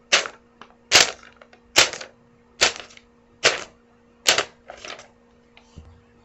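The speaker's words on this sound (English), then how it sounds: "I'll be using a paper and crumpling it up with my hands." Paper crumpled by hand as foley for footsteps on grass, a close series of about seven crisp, crackling bursts at a walking pace, each followed by a brief rustle.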